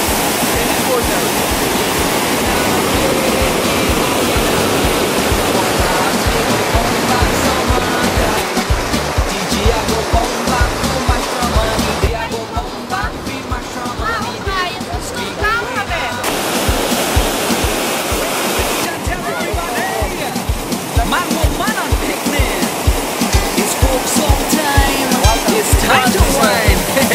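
Kaieteur Falls in Guyana roars as a steady, loud, broadband rush of falling water that fills the whole scene, with slight swells in intensity and no pauses.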